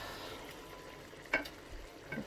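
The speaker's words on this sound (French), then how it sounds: "je vais faire tourner ma viande." Meat is turned over in a tagine pan, giving a soft scrape with a couple of brief clinks over a faint, steady sizzle, close and quiet.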